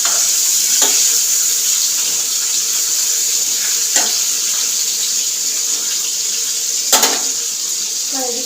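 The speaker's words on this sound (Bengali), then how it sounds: "মাছ ভাজা হচ্ছে।" Fish frying in a pan in a home kitchen, a loud continuous hiss like running water, with a few faint clicks and knocks spread across it, close and steady.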